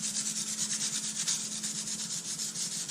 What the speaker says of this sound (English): you're going to go ahead and scuff it up with sandpaper